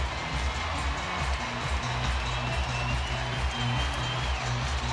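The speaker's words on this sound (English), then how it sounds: "So the crowd starting to get into it." A large baseball crowd at a night game between New York and Oakland keeps up a steady roar of cheering and scattered clapping, a dense continuous wash of noise in the stadium.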